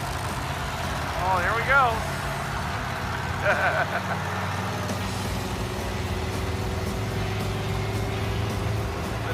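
A 1950 Ford F6 dump truck with a transmission that won't shift pulls away and drives, its low engine rumble steady beneath people talking.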